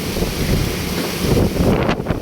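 Strong gusting wind buffeting the microphone outdoors by open water, a loud continuous rushing roar that eases briefly near the end.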